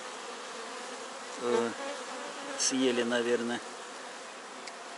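Honeybees buzz at a freshly opened queen cell in a hive, two short close buzzing bursts rising over a quiet background, with a few spoken words nearby.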